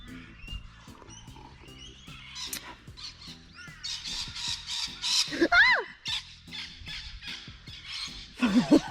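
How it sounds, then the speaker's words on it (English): Sharp, loud squawks and screeches from a parrot in an Australian outdoor setting, several harsh calls bursting up close amid other bird sounds, with people talking around them. "Came straight for me, bloody frickin' parrot."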